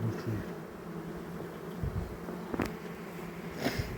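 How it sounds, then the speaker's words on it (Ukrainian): A honeybee crawls over a hive frame during queen rearing, its close, steady buzz rising in a few louder passes. "бджола обстежує рамку"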